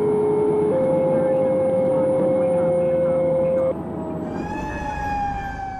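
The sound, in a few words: fire engine siren responding to call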